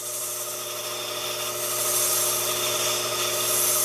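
400 grit sandpaper rubs against a small model part for a Corsair cockpit oxygen bottle, a close, continuous abrasive scratching that stays steady and fairly loud throughout.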